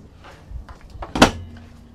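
The freezer door of a 2024 Leisure Unity 24RL Class B+/C RV on a Mercedes chassis opens with a soft thump and a brief seal release, a close, short sound in a quiet interior.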